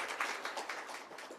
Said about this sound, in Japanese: じゃあ、拍手でお願いします。